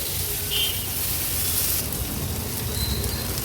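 Steamed bitter gourd sautéing in masala in a pan over medium flame for an Agri Koli style veg thali: a soft, continuous sizzle and crackle at steady low level, with no voices.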